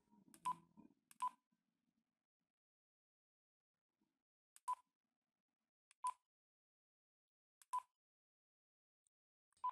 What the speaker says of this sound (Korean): 비프 메뉴는 무전기의 키를 누를 때 나는 소리를 온, 오프 합니다.